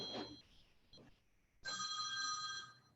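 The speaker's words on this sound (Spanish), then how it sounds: "Qué fuerte que suena el teléfono." A telephone rings loudly indoors during a law class, with a sustained electronic ring filling the second half after some brief talk and quiet.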